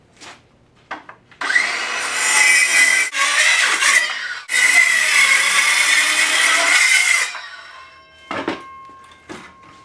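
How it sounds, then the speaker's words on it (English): A Skil-style circular saw cuts through pallet wood for a wine rack, with a loud whining rip lasting a few seconds, a short pause, then a second long cut before the blade winds down, followed by a few handling knocks. "Now let's cut our rack with a skill saw."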